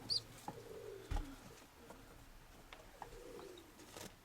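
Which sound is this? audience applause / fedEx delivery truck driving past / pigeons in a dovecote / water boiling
pigeons in a dovecote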